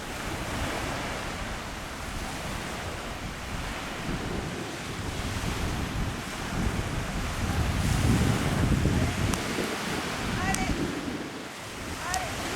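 Wind buffets the microphone as waves wash onto the beach at Rondinara bay in Corsica, a constant loud roar of surf and gusts, swelling midway, with faint voices briefly in the background.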